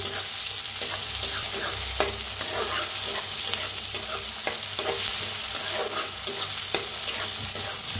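Onion and tomato fry in a pan for a kanda dal recipe, giving a steady close sizzle broken by regular scraping stir strokes, with no talk.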